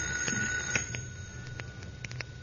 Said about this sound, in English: That's the telephone.